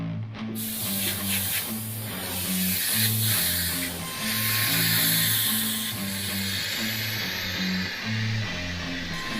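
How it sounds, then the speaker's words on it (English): A DV1S spray gun lays a pearl coat onto a Harley-Davidson fender, hissing in a steady close-up spray with pulsing low mechanical hum underneath, rising and easing slightly as the passes continue. "We're going to do a coat of pearl over the centre and just over the top of the fine line as well"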